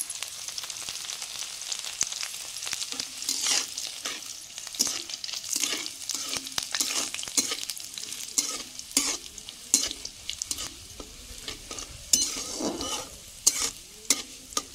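Close, crackling sizzle of garlic frying in hot mustard oil, with intermittent stirring scrapes against the pan; no voices.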